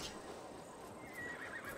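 A horse whinnies in Assassin's Creed Valhalla, a steady, moderately loud neigh over a low game-world background for under two seconds, alongside soft clip-clopping hooves.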